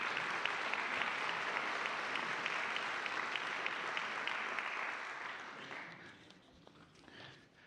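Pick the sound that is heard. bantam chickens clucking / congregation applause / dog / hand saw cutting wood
congregation applause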